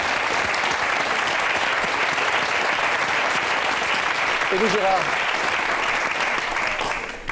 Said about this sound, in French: Des applaudissements pour Madame